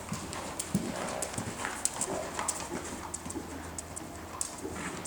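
Hooves of a horse clip-clopping steadily as it is worked on a tightening circle in a riding session, with irregular thuds, birds cooing in the background and faint distant voices.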